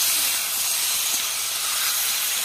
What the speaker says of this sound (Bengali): আর আলু দিয়ে হলুদ লবণ দিয়ে ভালো করে এখন নাড়াচাড়া করে লাল লাল করে নেব ভেজে